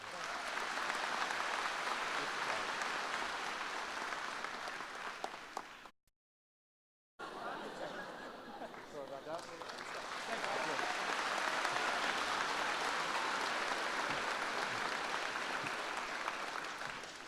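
Audience applause at a 2019 high school commencement: sustained crowd clapping that cuts out briefly to silence, then swells back to full, dense applause with faint voices underneath.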